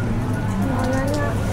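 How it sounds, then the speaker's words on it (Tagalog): Light drizzle falls around a cable car area at Ngong Ping, Hong Kong, as a steady soft rain patter with a low background rumble, and faint voices occasionally in the mix. "Oh, may ano, naulan. Oh, ambon."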